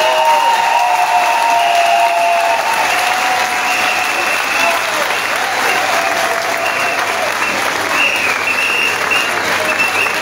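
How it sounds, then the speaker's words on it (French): Loud, continuous applause from a large standing crowd at a political gathering, filling the whole stretch, with a faint steady tone underneath. "Je vous demande de vous lever et d'applaudir Barreau Chambrier."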